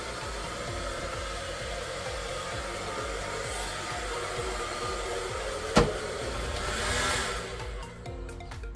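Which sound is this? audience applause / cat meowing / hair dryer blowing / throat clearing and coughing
hair dryer blowing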